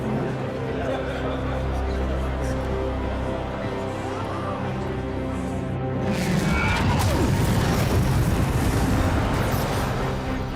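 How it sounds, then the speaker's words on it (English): Starship engines power back up in a sci-fi game scene. Voices talk at first, then a loud, broad mechanical roar surges in partway through and keeps rumbling to the end. "that was the sound of our engines coming back online"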